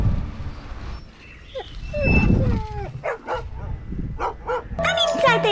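A dog barks and yips several times in quick bursts, close by, amid a woman's speech and other household sounds.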